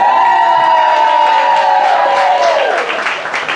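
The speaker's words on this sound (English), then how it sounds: "Please give our feature actor a huge round of applause." Audience applause and cheering for a featured poet at a breakfast poetry event, a dense wash of clapping and whoops that holds steady, then eases off toward the end, with some voices mixed in.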